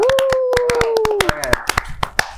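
A small group of students claps for their accounting faculty at a campus talk, with sharp, separate hand claps that are uneven in rhythm and fairly close. A sustained, sliding tonal sound sits under the first half.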